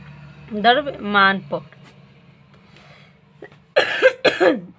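Two bursts of harsh coughing from someone with a cold, one early and a louder pair near the end, separated by a quiet stretch in a room.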